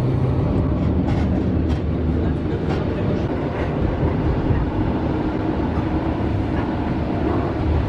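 Train running on rails, heard from inside a carriage on a journey in Poland to Zielona Góra: a steady, loud rumble with a faint rhythmic clatter, continuous throughout.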